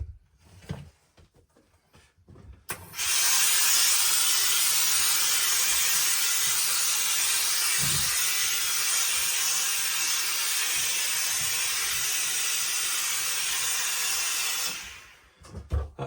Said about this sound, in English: So let's put some steam on it,